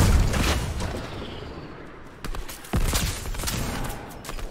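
RPG rocket launcher fire in Fortnite: a heavy opening blast followed by sharp booming shots and rapid gunfire bursts, loud and close, with rumbling decay between impacts.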